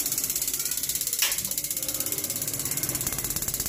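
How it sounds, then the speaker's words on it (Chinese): The exhaust fan of a gas water heater under repair spins with a fast, even mechanical ticking that repeats throughout. A brief louder click sounds near the middle, and no one speaks. "咱们来听一下这个声音这个风扇已经转动了"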